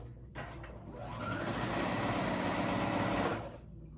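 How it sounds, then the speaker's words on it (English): A sewing machine stitches across a 2-inch gap in a pair of paperbag pants, a steady close whirring run that builds up after a short start and then stops near the end, with no talk over it. "2-inch gap closed. I just sewed right over it."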